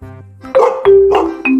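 Three short, cartoonish dog barks, each a bright synthesized woof, spaced about a third of a second apart.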